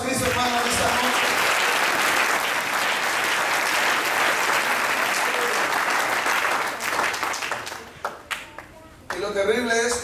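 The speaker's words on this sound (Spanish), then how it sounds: "Denle un aplauso a Cristo, hermano, esta noche." A congregation applauds in church, sustained loud clapping and crowd noise for several seconds before it fades out, with a voice speaking near the end.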